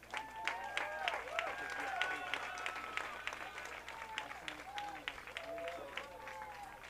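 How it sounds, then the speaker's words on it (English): A crowd at a men's college lacrosse game honoring seniors claps steadily throughout, with cheers and voices rising over the applause and several tonal calls or whistles mixed in. "Give a warm round of applause"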